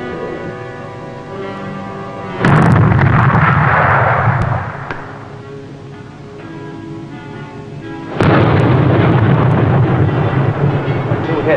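Torpedoes fired by Swordfish aircraft strike and explode against two ships, giving two loud, sustained blasts of roaring rumble several seconds apart, each holding for about two seconds before fading to a quieter rumbling background.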